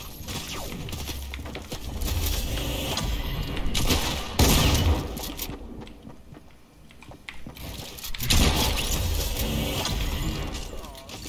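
Fortnite gunfire: dense, continuous bursts of shots and impacts crackling over a noisy game mix, loud and sustained with a brief dip in the middle.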